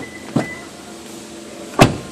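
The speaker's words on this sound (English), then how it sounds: "put your hand in the door handle, it'll just unlock the car" On a 2015 Lexus ES 300h, two sharp mechanical clunks ring out about a second and a half apart as the touch-sensor door handle unlocks the car, close by over a low steady background hum.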